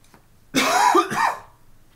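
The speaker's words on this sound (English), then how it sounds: "I apologize for the cough." A single harsh cough, close and fairly loud, splitting into two quick bursts, with near silence before and after.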